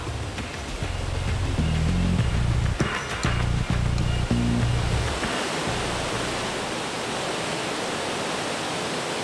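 Victoria Falls on the Zambezi River pouring as a dense, steady roar of falling water, loud and unbroken, with low swelling tones underneath during the first half before settling into plain rushing noise.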